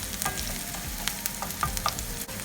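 Steady sizzle of ingredients frying in a pan to caramelize for a homemade tomato sauce, a continuous hiss with light stirring clicks and scrapes, close and moderately quiet with no talk.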